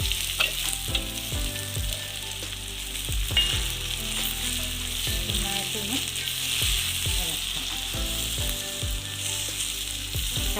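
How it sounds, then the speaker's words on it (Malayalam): Jackfruit pieces sizzle steadily in hot oil in a pan for Kerala-style jackfruit upperi, with occasional stirring clatters and bubbling crackle throughout and no talking. "ഇനി നമുക്ക് ചക്ക ഇട്ട് കൊടുക്കാം"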